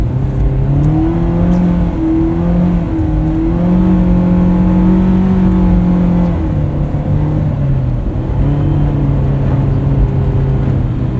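A 2001 Honda S2000 (AP1) engine revs hard and steadily through its range into VTEC while driving in snow, a loud, sustained rising and falling engine note with shifting pitch, close and continuous with no talking.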